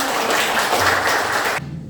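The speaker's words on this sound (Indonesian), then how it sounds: "Beri tepuk tangan." Brief, steady applause from a class of junior high school students at the end of an Indonesian language lesson, fairly loud and close, cutting off abruptly.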